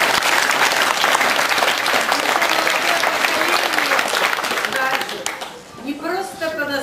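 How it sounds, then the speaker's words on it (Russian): Audience applause for people who made film history in the Chekhov municipal district, a dense, sustained wash of clapping that tapers near the end as a voice begins speaking. "им аплодисменты"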